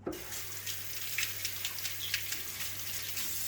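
Water runs steadily from a tap while a pet is showered at a sink or basin, giving a continuous hiss broken by small splashes, with no voices.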